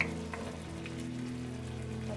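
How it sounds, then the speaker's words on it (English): Pot of Kapampangan burong isda, fermented fish and rice, simmering over turned-down stove heat, giving a steady soft bubbling hiss with faint low hum and occasional small pops, continuous and close. "Turn down the stove, turn down the heat, and let it simmer."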